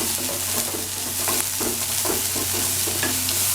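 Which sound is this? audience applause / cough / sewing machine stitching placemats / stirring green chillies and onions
stirring green chillies and onions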